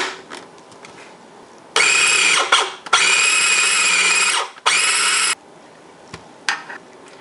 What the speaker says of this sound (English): I'm actually just going to mix this real quick and then put the dry ingredients in there.